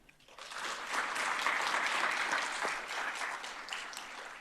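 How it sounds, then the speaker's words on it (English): An audience at a conference breaks into applause that swells quickly, holds steady for a few seconds, then begins to taper off. "join me briefly in just a huge round of applause for our colleagues at the Department of Labor"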